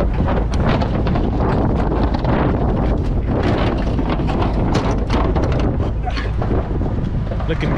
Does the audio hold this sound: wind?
yes